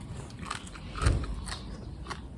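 Someone bites into spicy papaya salad with blue crab, giving a single crisp crunch in the middle of a soft, steady rustling background, close up and without talking.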